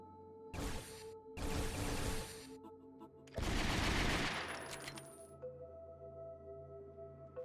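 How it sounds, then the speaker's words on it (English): Bursts of rapid gunfire from the PlayStation 2 game Ghosthunter come in three loud volleys, the last longest, followed by a quieter tail of clinks and low ambient hum. "So when he pulls his gun out, you can start firing immediately."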